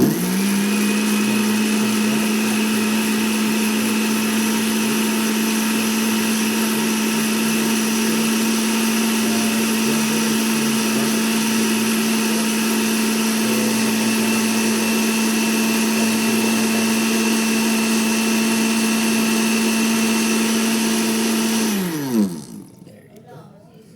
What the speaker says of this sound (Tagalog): We'll start turning on the Blender now.